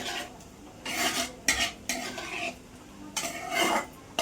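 Paneer biryani masala being stirred in a pan, a spoon scraping and clinking against the metal in several separate strokes, close and fairly quiet, with no talking.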